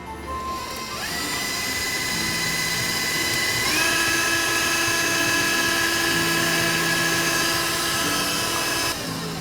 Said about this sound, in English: when you mix the butter, the sugar, and the eggs together